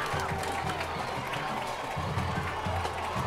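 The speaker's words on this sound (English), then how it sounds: "That brought the crowd to their feet." A high school football crowd at Dothan vs Park Crossing roars and cheers after an interception, a broad steady wash of cheering and clapping with a commentator talking over it.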